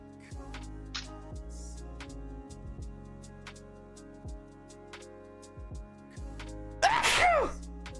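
A single sharp sneeze bursts out near the end, loud and close, over a steady background of soft electronic game music from a Neopets browser game.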